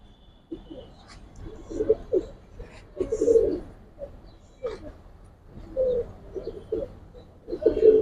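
Pigeons coo in soft, repeated low calls spread across the recording, close by and fairly clear, with rustling and small movement noises between them.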